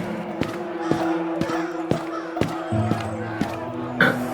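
A crowd of cartoon villagers in a Hindi animated story shouts together, demanding electricity, in a loud collective clamor set over a rhythmic music bed with steady thumping beats.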